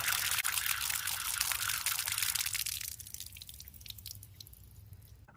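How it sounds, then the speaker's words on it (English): Water drips and runs through a pressure washer close by, with a steady wet patter that slowly tapers to a softer trickle. "water is flowing through there now"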